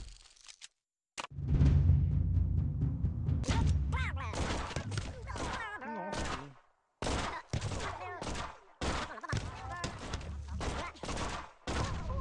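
Rapid bursts of gunfire ring out in the Gumslinger mobile game, which fires rubber bullets; the shots come in loud, clustered volleys with brief gaps between them.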